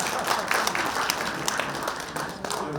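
An audience at a school centennial commemoration report meeting gives warm applause, a steady burst of many hands clapping close by with no speech over it.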